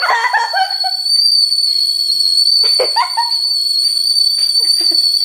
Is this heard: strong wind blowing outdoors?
no